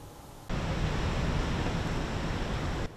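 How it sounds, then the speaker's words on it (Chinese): Large waves stirred up by Tropical Storm Lupit crash into Fugang fishing harbor in Taitung, a loud, dense roar of surf that bursts in abruptly and surges continuously before cutting off. "台东近海卷起一波波大浪，朝富冈渔港袭来，拍打瞬间激起5公尺高的浪花"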